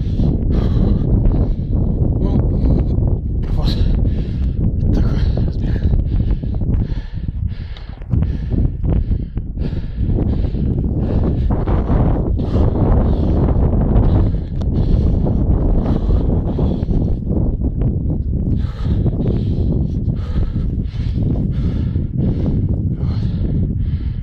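Strong wind buffets the microphone in a constant, loud roar while someone runs through falling snow, with heavy gusts and rumble throughout and no clear talk.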